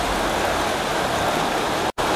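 Heavy outdoor rain pours in a dense, constant hiss close by, loud and unbroken apart from a momentary dropout near the end, with no voices.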